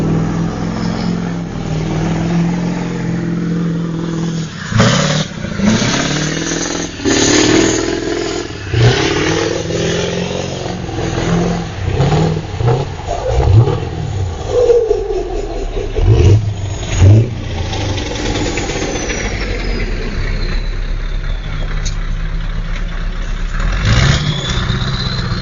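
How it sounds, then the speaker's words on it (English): Swedish tow truck doing a burnout, its engine revving hard in repeated surges with rising and falling pitch, loud and close, mixed with rumble and clatter. "Seems like the camera caught Villa doing his burnout"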